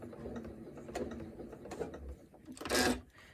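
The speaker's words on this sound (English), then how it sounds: "put my foot down, and I'm going to just stitch 1 or 2 stitches on here at the very beginning" Sewing machine stitching a curved crescent quilt piece, a quiet mechanical whir and clicking of a few stitches, close and faint, ending in a brief louder burst.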